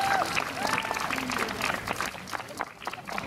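Audience at a German film screening applauding as the lead actor is welcomed forward, a steady wash of clapping with a brief voice at the start, fading slightly near the end.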